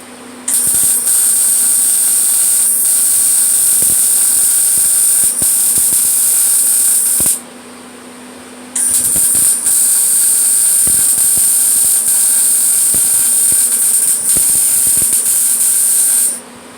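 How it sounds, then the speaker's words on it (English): Tack welding on the lip flanges of a Jaguar cowl hoop in a home garage: two long, loud stretches of steady hissing, buzzing weld noise, each several seconds, split by a short pause with no talking. "Let's put some binding welds on these things."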